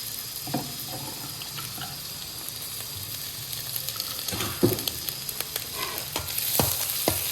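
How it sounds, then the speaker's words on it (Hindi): Garlic and ginger frying with browned onion in a pan for a dhaba-style daal mash, a steady low sizzle with scattered scrapes and clinks of stirring, no voices. "ये देखिए प्याज ब्राउन हो गया, अब इसमें लहसुन और अदरक डाल दें"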